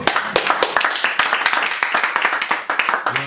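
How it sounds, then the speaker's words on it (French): A church congregation claps and applauds at a Friday prayer service, a dense run of sharp hand claps that carries steadily throughout, loud and close, with faint voices underneath. "Acclame pour la parole."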